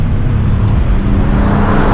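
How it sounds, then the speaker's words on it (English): Mercedes-AMG GT R with a 4-litre V8 on a race track, a dense, loud engine roar droning steadily and close with no break or talk. "That 4-litre V8 engine sounds like thunder around the track."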